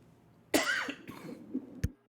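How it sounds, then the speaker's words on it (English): A single sharp cough bursts out, followed by a rougher, raspy second effort and a brief throaty clearing, then a final short hacking sound, all close and fairly loud with no talk over it. "Sounds like our friend is coughing up a hairball."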